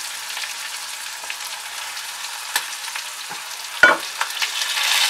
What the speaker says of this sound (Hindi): अब हम इसमें चिकन ऐड कर देंगे